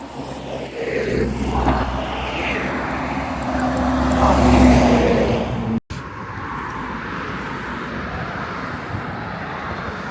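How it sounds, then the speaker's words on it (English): A couple of trucks passing along a road, a broad rumbling swell that builds to a loud peak and cuts off, followed by steady outdoor road noise. "There's a couple of trucks coming."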